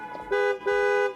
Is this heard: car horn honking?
yes